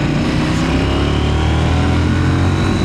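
KTM 990 Duke 2026 motorcycle engine pulling smoothly at low revs, a loud continuous throbbing rumble that holds steady without chugging, close up with no voices.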